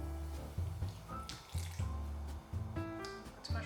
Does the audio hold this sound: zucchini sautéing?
no